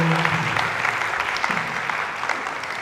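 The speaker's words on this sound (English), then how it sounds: "please give a round of applause to Mr. Chan" Audience applause for a speaker at a CEO talk, a steady wash of many hands clapping, with a brief voice murmuring over it at the start.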